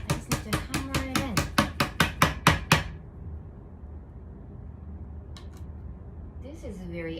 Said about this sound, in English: I just need to hammer it in.